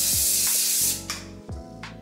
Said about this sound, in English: So we're just gonna go in with some hairspray now.